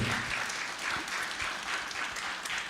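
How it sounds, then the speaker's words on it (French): A TV studio audience on a French-language variety show set gives steady, dense applause, a continuous wash of many hands clapping at moderate volume with no talking over it. "on peut l'applaudir"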